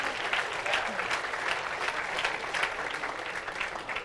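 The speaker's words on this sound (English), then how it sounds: "Give them a round of applause" Steady, close crowd applause at a U.S. amateur bowling stepladder finals event, dense and even from start to finish.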